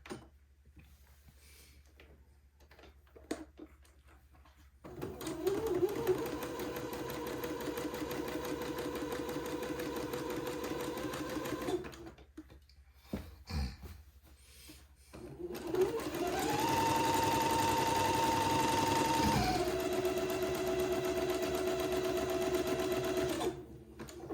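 A sewing machine stitches a zigzag seam, with the width set narrower to 3. It runs in two sustained bursts of steady whirring hum, a short pause between them, close up with no talk.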